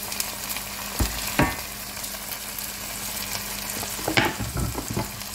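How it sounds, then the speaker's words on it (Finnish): Wok vegetables and sliced bell peppers drop into a hot frying pan with nut-tofu pasta fixings, sizzling steadily with a few sharp clatters and stirring knocks, close and without talk. "Nyt lisätään mukaan wokkivihannekset ja leikatut paprikat."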